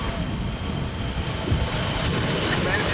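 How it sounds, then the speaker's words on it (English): A KLM Boeing 737 jet approaches at Amsterdam Schiphol Airport on a windy day, a steady broadband engine roar that swells slightly toward the end, with wind noise and no talk. "The 737 coming this way from KLM."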